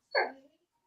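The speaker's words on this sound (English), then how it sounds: "Oh, is that the dog?" A dog gives a single short bark or yelp in the background, brief and moderately loud, with nothing else around it.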